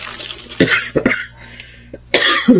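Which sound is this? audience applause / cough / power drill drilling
cough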